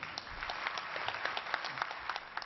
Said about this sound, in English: There was applause, but not much.